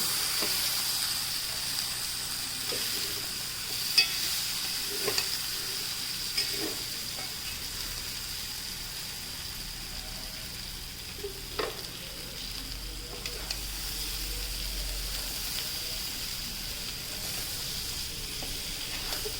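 Boiled jackfruit seeds are stir-fried for an upperi-style dish, giving a steady, even sizzle and hiss throughout. Occasional soft clinks and scrapes of stirring sound nearby, with no talking.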